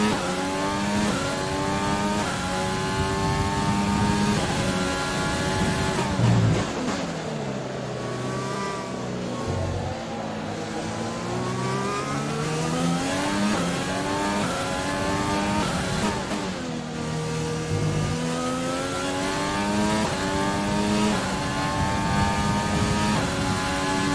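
An F1 race car engine in the F1 2020 video game screams through a lap, its pitch climbing and falling again and again as it shifts through gears and accelerates out of corners, loud and constant.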